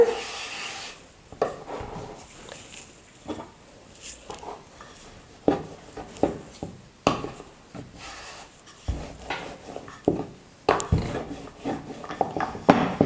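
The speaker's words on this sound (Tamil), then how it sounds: "இப்போ ஒவ்வொரு உருண்டை மாவை எடுத்து நம்ம மெல்லிசாக கொஞ்சமாக மைதா மாவு போட்டு தேய்ச்சி எடுத்துக்கலாம்" Maida flour dough balls being rolled out thinly with a rolling pin, giving irregular wooden rubbing and knocking strokes with brief clacks, close by and moderately loud, without speech.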